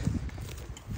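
The hooves of an elk herd move over the ground during a rifle elk hunt, a soft irregular clatter of steps heard at a distance under steady outdoor noise.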